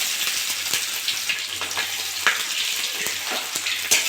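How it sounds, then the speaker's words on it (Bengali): Onions frying in hot mustard oil alongside whole garam masala, cinnamon, cloves, cardamom, bay leaf and cumin: a steady close sizzle with brief spattering crackles and occasional soft stirring scrapes, no voices. "এবার পেঁয়াজ দিয়ে দেবো।"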